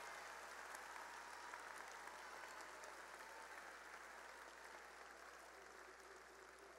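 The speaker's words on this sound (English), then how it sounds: "give your family, your parents a big round of applause" Sustained applause fills a graduation ceremony hall as the audience stands and claps for parents and families, a dense, steady wash of many hands that stays even and fairly loud throughout.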